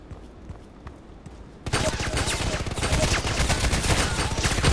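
Rapid gunfire in a sniper shooter video game bursts in suddenly after a quiet stretch, then becomes a dense, loud, sustained volley of shots. A voice is heard faintly before it starts.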